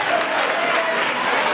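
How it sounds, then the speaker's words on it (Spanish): Parents and families applaud students at a diploma ceremony, a continuous even burst of clapping from a crowd at steady volume throughout. "y ahora los padres y las familias, que os den un aplauso a vosotros por vuestro trabajo"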